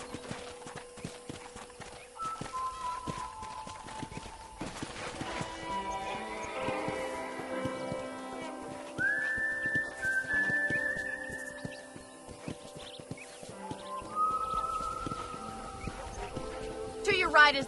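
Horse hooves clip-clop steadily while riding through a ranch in the Western video game Red Dead Redemption, running under a continuous music score with occasional brief tonal swells and a loud finish.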